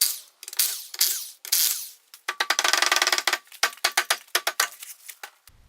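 Ratchet removing a car wheel, a series of loud close-up bursts of rapid clicking, starting with a few long strokes and ending in quick short ones, with no talking.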